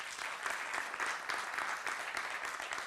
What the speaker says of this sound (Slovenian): Z velikim aplavzom pa na odru pozdravljamo tudi Polono Vrtar